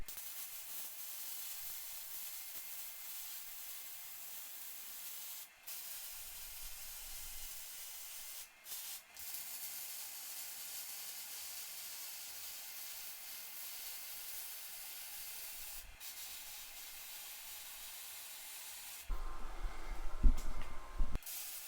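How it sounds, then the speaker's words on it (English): A steel fab table is welded, giving a long steady hiss with a few short breaks, then a louder, rougher burst of sound at the end. "I'm gonna go ahead and weld up what I can"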